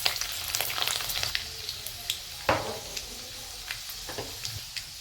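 Crushed garlic fries with mustard seeds in hot oil in a kadhai, giving a crackling sizzle with scattered pops and a few stirring scrapes, close and fairly quiet.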